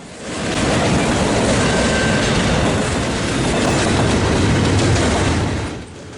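CP 100, an eastbound intermodal freight train, rolls past at close range with a loud, steady roar of wheels and cars and a brief high squeal partway through, fading near the end.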